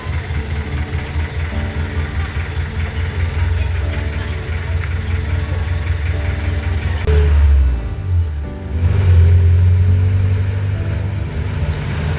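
Jeepney engine rumbling steadily while riding back toward San Miguel, a continuous low drone with a brief surge around the middle as it revs, close and loud throughout.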